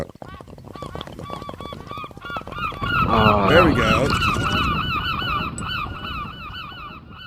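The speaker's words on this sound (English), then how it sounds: "The seagull went by." Seagull calls from a beach sound effect, a run of repeated squawking cries over crashing surf-like noise that swells in the middle, with a person speaking briefly over it.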